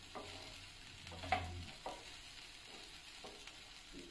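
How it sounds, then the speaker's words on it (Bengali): Soaked sabudana being stirred together with vegetables in a pan, soft scraping strokes at intervals over a faint, steady sizzle, close and fairly quiet. "নাড়াচাড়া করে সবজির সাথে মিশিয়ে নিচ্ছি"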